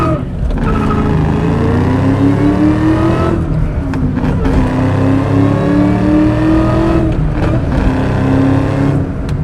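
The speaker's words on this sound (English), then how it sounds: "That Eaton supercharger whine on these cars is so iconic." A 2004 Ford Cobra with a MagnaFlow cat-back exhaust and an Eaton supercharger accelerates hard through its gears, its engine roaring and rising in pitch with a whine on top, dropping briefly at each upshift, loud and close.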